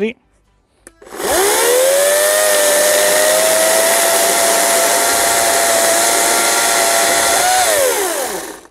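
EGO CS1401E battery chainsaw with a 35 cm bar and new chain cutting through an 11 cm log: after a brief quiet moment, a loud, steady motor whine holds for about seven seconds, then winds down at the end.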